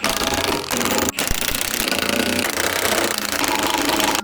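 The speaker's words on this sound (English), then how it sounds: "Just bolting up the hitch bracket onto this screen bucket for next week." Cordless impact gun bolting a hitch bracket onto a screen bucket, a loud, continuous rattling hammer close by with one brief break partway through.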